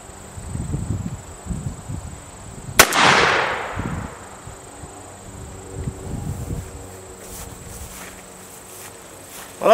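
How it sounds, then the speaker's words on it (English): A cap and ball revolver fires a single loud, sharp report outdoors, followed by a long, fading rumble and echo, with faint insect chirping and scattered ambient rustling around it. "it's firing, so we'll practice and see how well I get"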